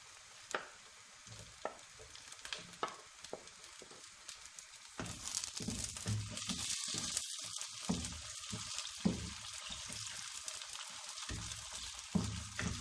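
Onions and carrots fry in a pan, a steady sizzle that swells louder about halfway through, with occasional sharp clinks and scrapes from stirring; no voices.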